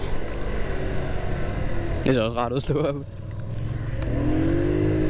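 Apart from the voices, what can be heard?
two motorcycles passing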